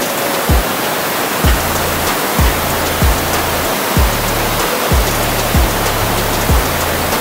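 Clean mountain water pours steadily into an improvised swimming pool near a tollgate, a loud, continuous rushing splash like a small waterfall with no talk over it.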